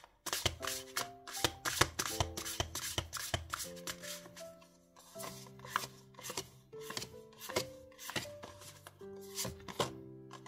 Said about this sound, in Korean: 결론 카드에 오라클 카드 한 장 볼게요.